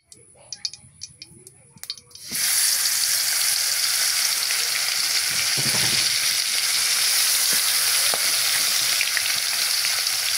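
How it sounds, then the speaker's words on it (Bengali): Spiced tilapia fish hits hot oil after a few soft clicks and taps, then sizzles and fries loudly and steadily at close range, with faint talk underneath. "তো এখন আমি ভাজি করব।"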